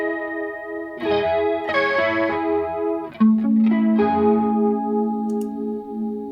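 An electric guitar runs through a chorus pedal on a gig pedalboard, playing a few strummed chords and single notes with a shimmering, wavering tone, loud and close.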